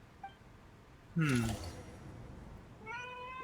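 A cat in the Genshin Impact video game lets out a loud, drawn-out meow, followed a moment later by a second, higher meow over faint background sound.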